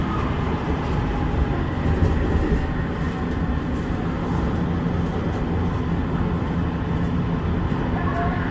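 Steady rumble and rattle from inside a moving tram in Karaköy, Istanbul, with dense low-frequency running noise and faint wheel clatter throughout, loud and unbroken.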